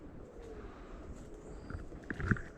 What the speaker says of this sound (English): You can hear the rustling of birds,